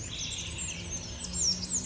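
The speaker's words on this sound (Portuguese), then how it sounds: "Os pássaros. Ó. Pássaros, galo cantando." Morning birds chirp and twitter steadily in bright, high calls over a constant low background rumble, heard outdoors without voices.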